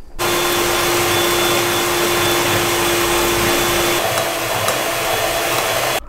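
An electric mixer whips eggs with a pinch of salt into a fluffy foam for an apple charlotte, a loud, steady motor whir with a constant whine throughout, alone without speech.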